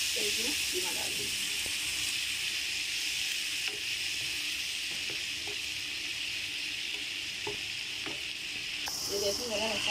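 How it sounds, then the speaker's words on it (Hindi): Masala spices for keema sizzle and fry in a pan with a continuous bright hiss, occasional stirring scrapes, while someone talks over it. "सारे मसाले मैंने उसमें डाल दिए, थोड़ा सा अच्छा भूनूंगी, फिर इसमें कीमा डाल दूँगी"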